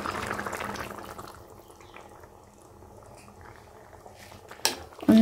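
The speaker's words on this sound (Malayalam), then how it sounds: "ഒന്നാം പാലൂടെ ചേർത്ത് നമ്മുടെ ചാറ് നല്ല തിളച്ച് വന്നിട്ടുണ്ട്" Chicken curry gravy with coconut milk bubbles in a pot with a soft, low boil that fades and then returns, ending in a sharp utensil knock and a louder clatter.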